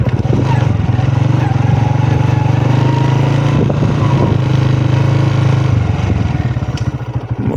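A motorcycle engine runs near a village path by the Ravi river, a loud steady chugging rumble that holds evenly before fading slightly toward the end, with no voices.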